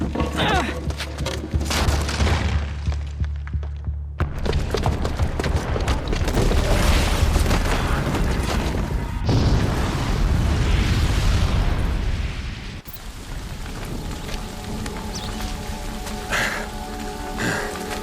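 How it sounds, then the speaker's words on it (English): A bomb booby trap exploding in Horizon Zero Dawn, a loud sustained rumbling blast with crackling debris that roars for several seconds before settling into a quieter lingering rumble and scattered noise. "the booby trap on the bomb downstairs is gonna get set off"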